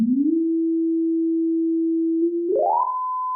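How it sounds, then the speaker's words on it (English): Pure synthesizer sine wave heard alone: a steady low tone glides slightly upward, holds, then sweeps smoothly to a higher, thinner pitch that sustains to the end. "The waveform's cycles appear thinner, and audibly it sounds higher and thinner, and a bit more piercing as we get even higher into the frequency range."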